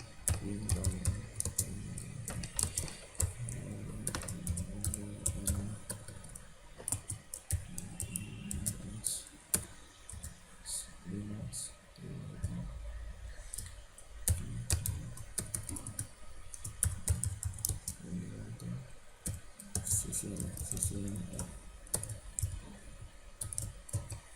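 Steady clicking of someone typing on a computer keyboard while setting up a DHCP pool on a router, with irregular bursts of keystrokes and short pauses over a long stretch, fairly close and faint.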